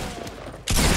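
Video game hand cannon gunfire bursts in loud and dense after a short stretch of muffled noise, filling the last part of the moment.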